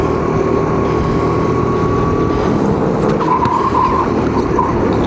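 Go-karts race around the Caudecoste track in an inter-company kart race, a constant loud, dense engine drone with a thin high tone running through it and occasional tire chatter, no voices.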